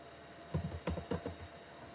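A handful of quick key presses on a computer keyboard typing a command, soft close clicks in a short irregular burst over a quiet background.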